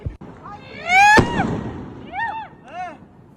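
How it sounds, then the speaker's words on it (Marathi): Firecrackers set off in a street celebration in Barshi: rising whistling tones lead into one loud, sharp burst near the middle, followed by two more whistling shrieks. No one speaks. "उमेदवारी जाहीर होताच बार्शीमध्ये जोरदार फटाके फोडून"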